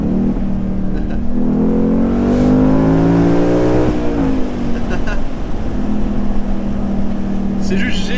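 A Ford Mustang V8 convertible cruises through snow, its engine droning in a deep steady tone that swells as the revs climb, then eases back to a relaxed, rumbling cruise.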